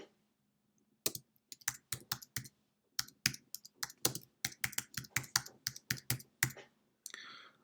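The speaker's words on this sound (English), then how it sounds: "So click that area and we're gonna type the first playground." Fingers typing on a computer keyboard, a quiet close run of quick irregular key clicks in short bursts with brief pauses, heard alone.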